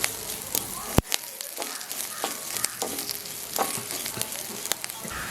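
Half a spoonful of cumin seeds sizzles and crackles in hot oil for tempering, a steady frying hiss with scattered pops close by, during a Tamil plantain cooking session.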